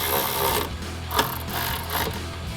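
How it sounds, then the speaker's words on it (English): A hand ratchet with a 13mm socket tightens bolts while installing retractable power running boards on a 2019-2025 Silverado 1500, giving close, brief clicking bursts over a steady background hum. "we're gonna grab our ratchet and 13mm socket"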